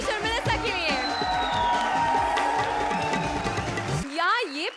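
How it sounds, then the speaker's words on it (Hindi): A studio audience at a comedy show claps and cheers loudly and steadily, with whoops and crowd noise mixed with music, before the applause cuts off and a voice continues alone. "जोरदार तालियां हो जाए कृष्णा, सुदेश और मेलिसा के लिए"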